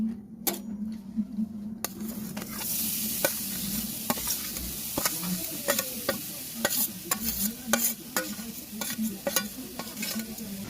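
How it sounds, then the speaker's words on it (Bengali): Grated coconut mixed with jaggery goes into a hot pan and is stirred for kuli pitha: an opening clatter, then continuous sizzling with repeated sharp scrapes and clinks of a spatula against the pan, close and loud, with no talk. "এই যে নারকেলটা যেটা চিনি দেওয়ার গুড় দিয়ে মাখিয়ে রেখেছিলাম সেটা এখন দিয়ে দেবো"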